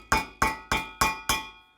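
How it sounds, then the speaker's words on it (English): A hammer strikes a dome setter seated on a leather rivet. Five sharp, evenly spaced metallic taps ring out close by, each decaying quickly before the next. "Take your hammer again"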